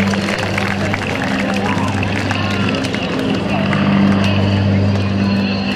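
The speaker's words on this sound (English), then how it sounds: "watch these 3 airplanes as they do it line abreast" Aerostars formation team airplanes flying line abreast at an airshow: a steady, loud engine drone with sustained low tones, alone throughout and swelling slightly near the end.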